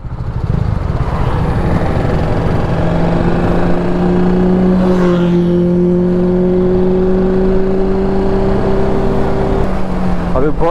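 A motorcycle cruising along a road on a Republic Day group ride, a loud continuous engine drone with rushing wind, its pitch holding steady then sliding slightly as the bike shifts speed.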